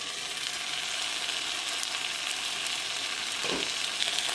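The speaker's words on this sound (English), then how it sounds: "Cover with the lid and now let it simmer for 5 minutes." Chicken breast simmering in a covered pan gives off a steady, dense sizzle throughout, close and even, with a brief low knock partway through.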